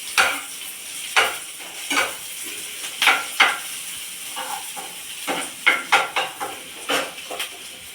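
Onions frying in oil in a pan, a close hiss of sizzling broken by repeated spatula scrapes and clinks coming in irregular bursts, with no speech.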